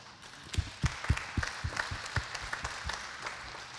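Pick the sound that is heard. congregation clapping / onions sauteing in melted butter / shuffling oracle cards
congregation clapping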